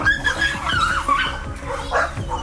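Several dogs bark, yip and whimper at a dog pound in French Guiana, a loud, close, overlapping chorus of excited calls with no pauses.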